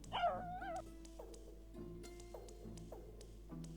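Moti the dog in the video game Blackwell Legacy gives a few sharp barks and yips followed by several whimpers in a steady rhythm, close and clear, with no talk.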